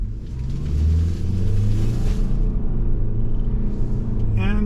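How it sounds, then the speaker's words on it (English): A 2024 Subaru Ascent Limited with a 2.4-liter turbocharged flat-4 engine and CVT accelerating, a loud close engine drone rising in pitch and holding steady, with a brief chirping sound near the end. "And the engine, it takes off just fine."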